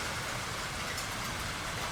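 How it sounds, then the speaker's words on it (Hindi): Rain has just started falling outdoors. It makes a steady, dense hiss of drops across the whole clip, loud and unbroken, with no voices. "बारिश शुरू हो गई है। अभी तो बंद थी, अभी स्टार्ट हो गई।"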